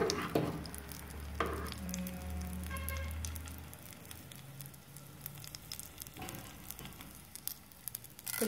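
Mustard seeds fry in hot oil in a kadai with a soft, faint sizzle and scattered light crackles, broken by a few stirring clatters, with no talking.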